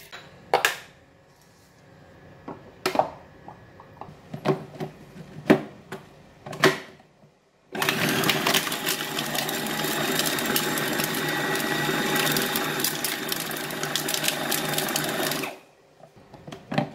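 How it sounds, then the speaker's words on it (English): A food processor runs on a thick beef ball mixture, starting abruptly with a loud, steady whirring grind that holds for about eight seconds before cutting off, after a few scattered knocks and clicks. "I'm going to put it back into the food processor one more time, just to make sure that it become very thick and nicely blend"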